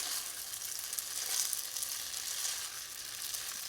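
About eight tablespoons of butter melting in a pan, giving a steady, even sizzle with a crackling high-frequency hiss that holds at a constant level throughout, with no talking over it.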